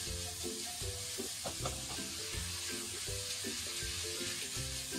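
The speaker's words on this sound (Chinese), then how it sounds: "从菜花入锅开始，就要一直保持大火，快速的翻炒。" Cauliflower florets stir-fry over high heat in a wok with pork belly fat, producing a steady loud sizzle broken by quick tossing scrapes, close up.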